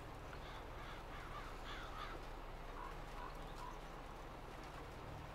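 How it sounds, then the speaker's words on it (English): A raven caws in a Farming Simulator 22 farm setting, a few short distant calls spread over a quiet, steady ambient background. "I hear the ravens outside."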